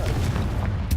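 A Confringo spell explodes in the video game Hogwarts Legacy, a short, loud, deep boom with a rumbling tail and a second smaller burst at the end.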